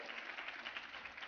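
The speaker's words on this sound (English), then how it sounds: "I think that deserves a round of applause." Short burst of applause from a crowd at a museum exhibition opening, a dense, muffled wash of clapping lasting just over a second.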